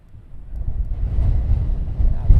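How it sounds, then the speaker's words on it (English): Wind gusting into an outdoor microphone beside an RAF airbase, a low rumbling buffet that builds from quiet to a steady roar over a couple of seconds and swells again at the end. "Now, the wind's picking up now."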